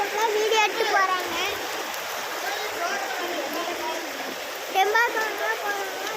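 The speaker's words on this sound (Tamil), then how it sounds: "ஃபுல்லாக தண்ணி தான் ஓடுது பாருங்க ஃப்ரெண்ட்ஸ்." Water flowing in full stream rushes steadily and loudly, a constant broad hiss and splash, while children's voices come and go over it.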